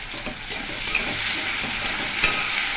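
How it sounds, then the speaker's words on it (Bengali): Potatoes sizzle steadily in hot oil in a pan, with occasional stirring scrapes over a continuous close frying hiss. "আলুটা ভাজা হতে থাক"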